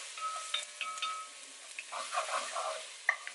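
Onion sautéing in olive oil in a pan, a soft steady sizzle with scattered stirring scrapes and clinks, fairly quiet and close with no talking.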